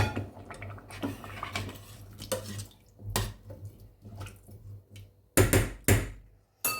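Washed potatoes dropped into a cooking pot for a vegetable meatball stew, several loud clunks and splashes near the end after softer wet kitchen clatter and dripping.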